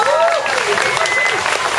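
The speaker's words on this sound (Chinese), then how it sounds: "我们给我们的三位辛苦的三位掌声鼓励鼓励。" A stage audience at an Amis folk song performance gives a short burst of applause, with brief clapping mixed in among voices.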